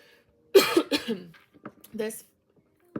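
Someone coughs twice, loud and close, then lets out a few softer throat-clearing coughs, with short pauses of quiet between them.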